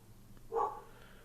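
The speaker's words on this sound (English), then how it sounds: "The dog's barking." A single short dog bark heard faintly in the distance inside the Euro Truck Simulator 2 game, one brief yelp against a quiet background.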